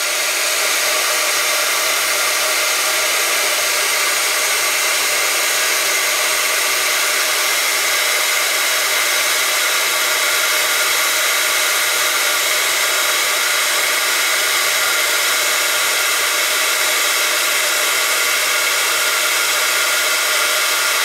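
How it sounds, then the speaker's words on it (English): A heat gun melting embossing powder on wood blows a loud, steady whooshing drone with a constant high whine that runs unbroken throughout. "And then just go over it again with the heat gun."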